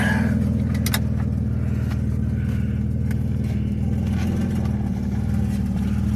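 A Dodge car drives with its engine running, a steady loud low rumble and drone close by with some faint rattles, no speech.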